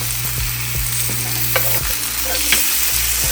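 Steaks sizzling loudly in a hot pan just after being flipped, a dense continuous hiss with a few light clanks of utensils, no talking.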